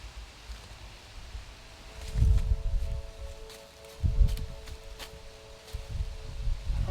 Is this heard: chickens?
no